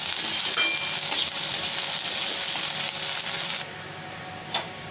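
Chopped onion, carrot and capsicum sizzle steadily in a hot pan as they are stirred, a dense close frying hiss with occasional soft scrapes, easing off near the end.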